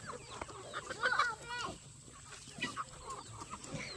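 Several chickens cluck and chatter close by in a quiet outdoor setting, their calls coming in short, uneven bursts.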